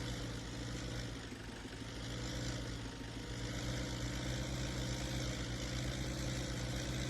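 Steady, low rumbling idle of a tractor engine in Farming Simulator 19, an even, continuous drone with no talking.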